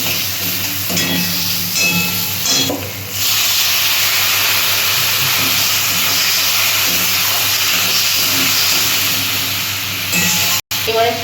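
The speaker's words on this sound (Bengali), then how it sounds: "এবার আমি কষিয়ে নেব।" Cumin powder and salt sizzle and fry steadily in hot oil in a pan for a shol fish curry with taro and pointed gourd, a constant close hiss with a short louder burst near the start.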